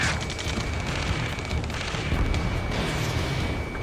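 Dense, continuous game battle in Ace Combat 7: rumbling booms and artillery-like explosions layered with bursts of gunfire, loud and sustained throughout with no pauses.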